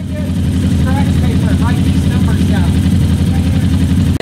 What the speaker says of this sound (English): Listen to that engine and see if you would have guessed that it's this far out of sync.